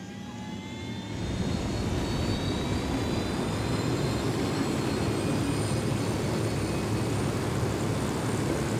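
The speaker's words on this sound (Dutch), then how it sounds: "Er is een helikopter, hè?" A helicopter in the video game Ghost Recon Wildlands drones steadily and loudly, swelling in after about a second into a continuous rotor and engine roar with a thin whine above, no talk over it.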